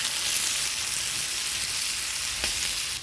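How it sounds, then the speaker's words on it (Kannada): Onions sizzle steadily in a pan for ridge gourd chutney, a continuous close hiss with no break and no voices. "ಈರುಳ್ಳಿ ನೋಡಿ ಈ ಅದಕ್ಕೆ ಹುರಿದು ಕೊಡಬೇಕು"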